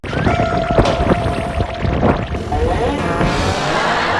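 Strong sea waves at a beach in Khanom district, Surat Thani, Thailand, on a sunny day, heard as a loud, steady wash of surf that continues without a break.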